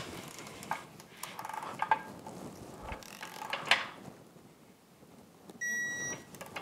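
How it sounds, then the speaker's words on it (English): A torque wrench set to 40 foot-pounds tightens gearcase bolts on a Mercury 200 outboard lower unit, giving faint, scattered ratcheting clicks up close, with a brief electronic beep near the end. "Switch over to our torque wrench. Set it to 40 foot-pounds."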